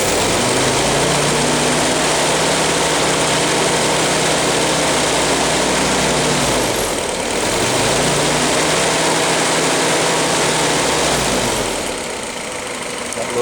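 Willys L-head engine idling steadily just after a cold start, a loose heat-riser valve adding a fine rattle over the low droning rumble, close and loud, dipping briefly near the middle and end.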